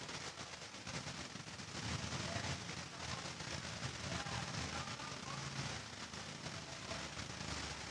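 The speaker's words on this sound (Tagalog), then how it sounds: "Lakas ba ng ulan, TK?" Heavy rain falls steadily, a dense, unbroken hiss of drops on surfaces that stays constant throughout with no voices.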